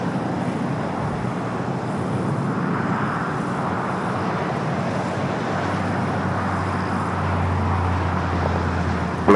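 An Airbus A350-900 in a special Team USA livery takes off from the north side at LAX, its engines a broad, sustained roar that holds steady and fairly distant, with no voices.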